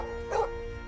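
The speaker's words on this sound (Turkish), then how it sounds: "Burada köpeğim Molly'nin videosunu görüyorsunuz." A pet dog gives a single short bark, close and clear over a steady background hum, under a voice narrating about digital video compression.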